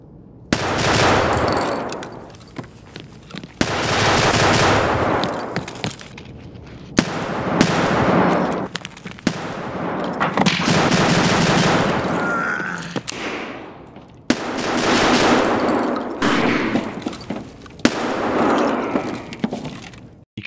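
Shotgun blasts firing flechette rounds in the shooter game Escape From Tarkov, with several bursts of sharp, loud shots broken by brief pauses, each burst closely spaced and ringing with a harsh metallic tail.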